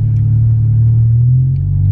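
Deep, steady exhaust drone from a 2019 Honda Civic Si fitted with a Skunk2 Mega Power exhaust, loud and close, holding an even low rumble with a slight dip in pitch near the end.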